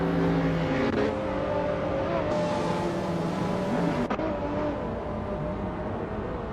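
Race car engines drone and shift pitch during a video game race, several cars humming together with rising and falling tones, steady and fairly loud throughout.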